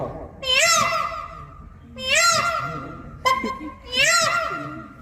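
A voice imitates a peacock's call three times, each a rising, wailing cry with pauses between them, close and fairly loud.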